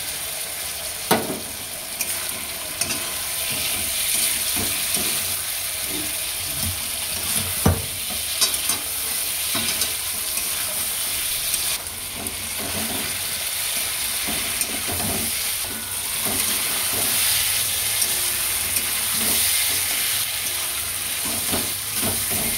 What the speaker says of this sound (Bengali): ভালো করে কষানো হয়ে গেছে।